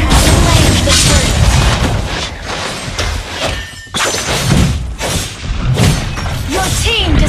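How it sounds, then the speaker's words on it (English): A turret being destroyed in the mobile MOBA Mobile Legends, with the hero Hayabusa in play. Loud crashing, shattering blasts and thumps pile up over busy game effects, and a voice is faintly present. "Your team destroyed a turret."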